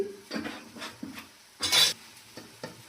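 Turmeric, chili and other spice powders are stirred in a pan for chicken curry, with several distinct scraping strokes of a spoon against the metal and a louder scrape near the end over a faint sizzle.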